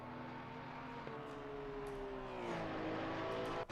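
A Porsche GT3 race car in a sim racing endurance event at the Nürburgring, with its engine drone holding steady, then rising and shifting in pitch, continuous and fairly close.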